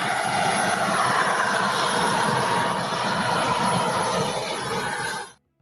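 A Russian Army Aviation Mi-28 Night Hunter attack helicopter roars loudly and steadily, a dense continuous engine and rotor rumble that holds for several seconds before cutting off abruptly.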